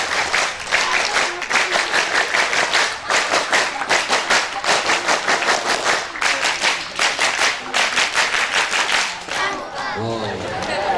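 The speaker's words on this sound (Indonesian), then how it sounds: "Tepuk pramuka." A large group performs the Pramuka scout clap, crisp hand claps in a fast, patterned rhythm that keeps going, loud and close, with chatter breaking in near the end.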